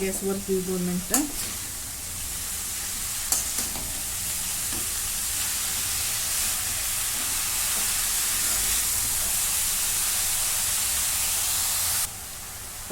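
Chopped shepu (dill) greens with chana sizzle and crackle steadily in a hot pan, with a few scraping stirs at the start, a voice briefly early on, then continuous frying until it drops off near the end.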